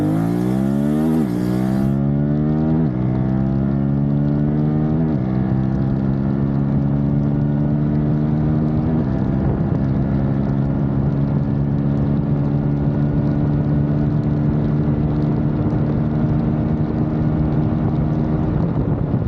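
A QJmotor Xiao 650 V2 twin-cylinder motorcycle accelerating hard, its engine note rising through the gears with several shift points before a sustained high-revving drone, loud and close, no talk.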